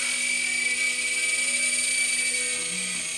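A small 3-channel RC toy helicopter flies close by with a steady high-pitched electric motor whine and a rotor buzz, heard alone.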